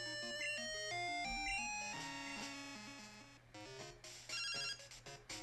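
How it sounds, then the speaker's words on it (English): An electronic phone-call jingle from the Game Boy game Pokémon Crystal: a chirpy chiptune ringtone of bright stepped beeps over a low bass tone, repeating quickly and fairly faint. "once you escape the Dragon's Den, you actually get a phone call"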